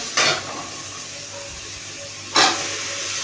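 Chopped potatoes are stirred in a pan in two brief scraping sweeps about two seconds apart. A faint continuous sizzle sits underneath, close by, with no voices.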